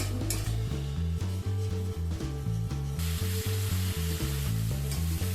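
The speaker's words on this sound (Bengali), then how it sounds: "মশলাটাকে ভালোভাবে এবার কষিয়ে নেব।" A spice paste of salt, turmeric and chilli powder is sautéed in a pan for a papaya and prawn dish, with a loud, constant sizzle, rhythmic scraping strokes of a spatula and a low mechanical hum underneath.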